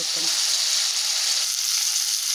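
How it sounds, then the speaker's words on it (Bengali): Cauliflower florets and potato pieces frying in oil in a pan, a steady, dense sizzle that stays loud and close throughout with no pauses. "আর আমার এইদিকে তো ফুলকপি আলু ভাজা হচ্ছে, আস্তে আস্তে রং ধরছে।"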